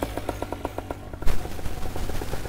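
Small engine on a home-built flying machine, sputtering in an even, rapid pulse before a sudden louder burst as it revs up into a rough, steady roar, close by.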